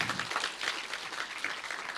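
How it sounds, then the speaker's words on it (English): Audience applause at a university student founder showcase, a steady wash of many hands clapping at moderate level for about two seconds, with no voices on top. "Round of applause"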